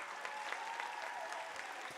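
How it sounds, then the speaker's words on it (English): An audience at a 2019 FCCLA gathering gives the state officer team a steady round of applause, dense and sustained, heard from some distance in a large hall. "Let's give them a big round of applause."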